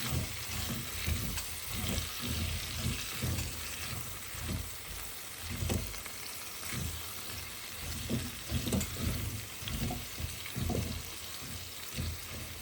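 Potatoes fry for dum aloo in a pan and are turned over, giving a moderate, continuous sizzle broken by rhythmic soft scraping and shuffling from the repeated turning.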